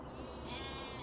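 Sheep and goats in Farming Simulator 25 let out a brief bleat in the middle of a steady farmyard ambience. The call is fairly near and short, with no talking over it.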